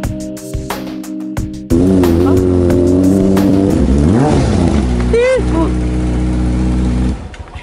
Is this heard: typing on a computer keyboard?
no